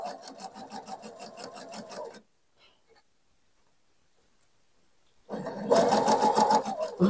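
A sewing machine stitches decorative seams in fabric, running in a steady rapid chatter, then falling silent for about three seconds, then starting again louder and closer.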